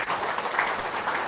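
An audience at a talk breaks into applause, a dense crackling patter of many hands clapping together, steady and fairly close across the whole short stretch.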